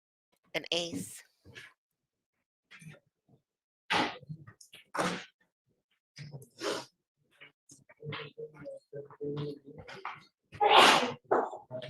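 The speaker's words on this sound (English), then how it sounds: "now that I keep hearing these sneezes, I think it's someone else sneezing" A person sneezes sharply, with one loud sneeze near the end standing out among scattered voices and short breaths in a quiet courtroom setting.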